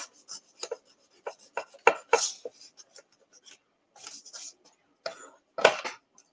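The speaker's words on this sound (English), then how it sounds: "I'm just going to take just a 320 and I'm just going to kind of do a little scuff sand in there." A mirror frame scuff-sanded by hand with 320-grit sandpaper, heard as short, quiet, scratchy rasping strokes in irregular bursts separated by near silence.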